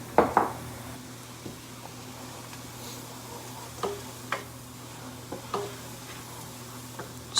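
Chili mac with a tablespoon of cumin sizzles quietly in a pot. A utensil stirs it, and its spoon taps and scrapes against the pot in irregular clinks over the hiss.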